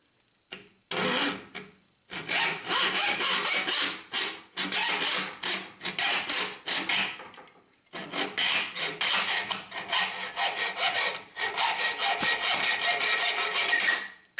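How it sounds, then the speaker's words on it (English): An angle grinder works a flimsy tubular steel broom handle down to fit a plug, in a run of loud, steady rasping bursts separated by short pauses. "By grinding it a little bit at the time, I very nearly got this plug to fit this flimsy piece of steel that they use for a handle"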